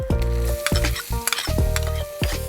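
Chopped onion fries in butter in a frying pan, sizzling loudly in repeated bursts as it is stirred, each burst flaring then settling, with a steady tone underneath.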